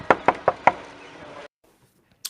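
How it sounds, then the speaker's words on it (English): Knock at the door in the video game House Mates: four firm, evenly spaced knocks on wood, close and clear, then quiet room tone and silence. "There's a knock at the door."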